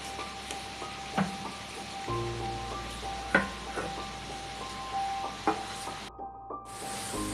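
Chicken for a Bengali-style cream chicken sizzles in a hot pan after being poured in, a steady rain-like hiss with scattered crackles and pops that briefly drops away near the end.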